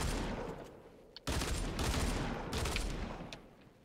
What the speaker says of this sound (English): How good are these pistols, though?